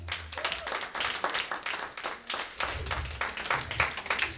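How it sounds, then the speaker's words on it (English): A church congregation claps their hands in a lively, rhythmic run of distinct sharp claps, fairly close, with some low rumble and movement beneath. "Clap those hands one more time."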